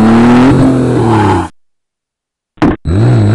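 Engine revving and roaring from a car driving off in a video game, loud and close, cut by a second of silence before resuming briefly with a rising rev.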